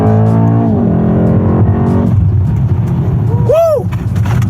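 A Mercedes-AMG E63 S engine revs, rising and then settling into a deep rumble, followed by a sharp whooping shout near the end.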